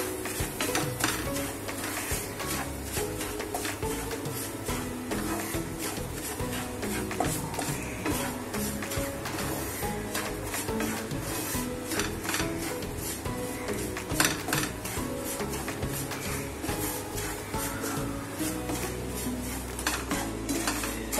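Semolina (rava) roasting on low heat in a pan while a spoon stirs it continuously, with busy metallic scraping and clinking against the pan and a light sizzle underneath, close and fairly loud with no talking.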